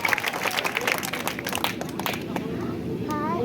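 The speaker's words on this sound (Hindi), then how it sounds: "जोरदार ताली से स्वागत करते हैं।" An audience at a Sahu community event in Diwan Tok gives a guest on stage a welcoming round of applause. Sustained, dense clapping blends with crowd chatter and nearby voices throughout.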